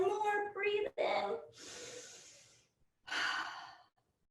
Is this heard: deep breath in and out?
yes